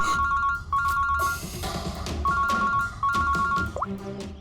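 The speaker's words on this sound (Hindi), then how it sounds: "फोन उठाओ" A telephone rings with a repeating electronic ringtone in short bursts over a busy, noisy background, with no talking.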